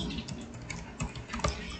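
Soft clicking keystrokes on a computer keyboard as a search term is typed on a Windows PC, irregular taps at close range with a couple of sharper presses, no voices.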